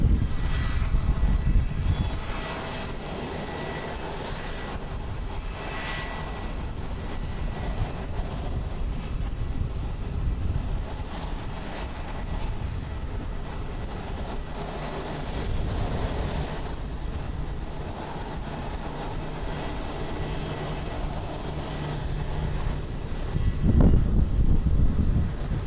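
A Japan Airlines Airbus A350-900 jet arrives at Haneda Airport in Tokyo, its engine roar sustained and broad at a moderate distance, swelling and easing over about twenty-five seconds without talk.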